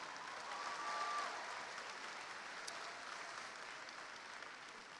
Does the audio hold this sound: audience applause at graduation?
yes